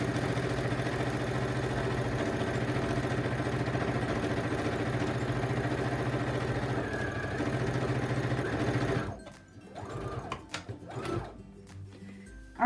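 A sewing machine runs continuously while stitching random wavy lines across fabric for an oven mitt, a steady close mechanical whir and hum that stops near the end, leaving brief quieter handling noises.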